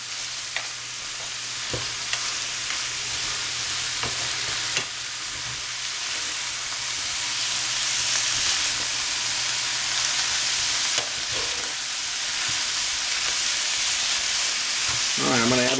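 Bacon and mushrooms stirred into a frying smoked ham hash in a pan, a steady sizzle and hiss with occasional scraping stirs of a utensil throughout, close and continuous.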